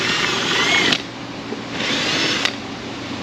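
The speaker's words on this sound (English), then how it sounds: "a little bit of light drilling and some prying should open this up" Light drilling with a drill bit inside a GMT800 Silverado's interior during HVAC evaporator core work comes in two short bursts of close, buzzing, grinding whir separated by a brief pause.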